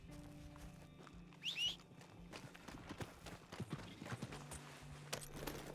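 Horse hooves clip-clopping in the video game Red Dead Redemption, a quiet, uneven run of hoof strikes with creaks and a brief bird-like call early on.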